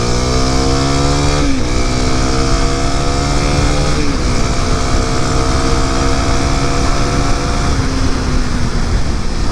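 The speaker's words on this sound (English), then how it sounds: "Down this hill and see how I did on the balancing and see if these tires make any noise." A Kawasaki KLX300 dirt bike on Tusk DSport tires rides downhill at speed, its engine loud and close with a rising whine that resets at each gear shift over heavy wind rumble.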